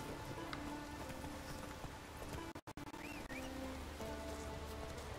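Horse hooves clopping in The Witcher 3: Wild Hunt, a steady rhythmic trot under patter like rain, fairly faint in the game's mix.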